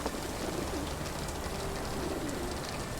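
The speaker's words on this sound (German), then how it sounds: "Taube." Pigeon cooing in the video game Sherlock Holmes The Awakened, soft repeated low coos over a steady rain-like hiss of background ambience.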